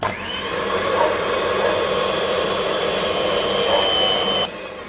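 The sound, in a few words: blending machine running to whip ice cream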